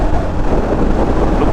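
Steady, loud wind buffeting roars into the microphone while riding a Royal Enfield Scram 411 motorcycle at high speed, a dense continuous rush with no pauses or voices.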